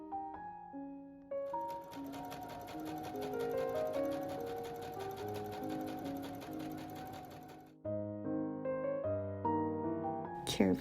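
A sewing machine runs a long, loose, zero-width gathering stitch on pants-skirt fabric, a steady rapid patter from a few seconds in until near the end, alongside background music.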